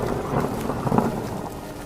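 Heavy stormy rain pours steadily with gusting wind, a dense, continuous roar that sounds close and fairly loud, with a low rumble of thunder swelling near the middle; no voices.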